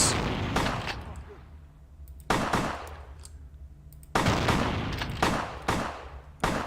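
Bursts of rapid gunfire in Vampire: The Masquerade - Bloodlines, several sharp volleys spaced a second or two apart, loud and close, with a voice talking faintly between shots.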